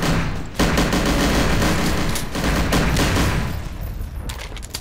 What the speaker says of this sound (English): I just unloaded a whole clip into his brain